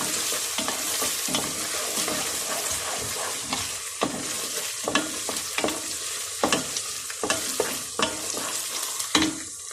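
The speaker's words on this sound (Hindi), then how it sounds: "अब मैं अदरक लहसुन का पेस्ट डालने लगी हूँ।" Onion with ginger garlic paste sizzles steadily in a hot pan while a spoon scrapes and stirs it in irregular strokes, close and continuous with no voices.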